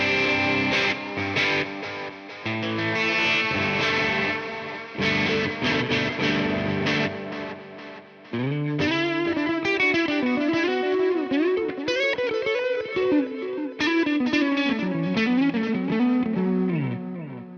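Electric guitar played through an ODS amp capture with varying gain settings, sustained overdriven chords and melodic runs ringing out continuously, up close and loud, with a brief pause near the middle before a thicker passage.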